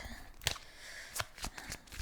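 Tarot cards are shuffled close by in a few quick riffling bursts, soft and brief, separated by short pauses.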